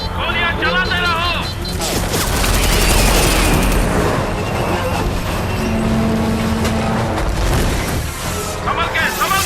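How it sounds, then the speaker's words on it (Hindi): Dense bursts of gunfire and booming blasts over heavy rumbling noise, with voices talking through the chaos in a battle scene. "गोलियां चलाते रहो।"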